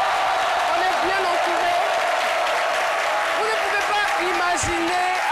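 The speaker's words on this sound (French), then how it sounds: "j'aimerais bien qu'elles puissent applaudir à moi" Audience applause at a Thursday CMIDI show: a dense, steady wash of many hands clapping that runs the whole time beneath a speaking voice.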